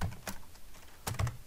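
Fast keystrokes on a computer keyboard while entering invoice items in a Visual Basic program, heard as a close, brief burst of light clicks with a short pause between, and no voices.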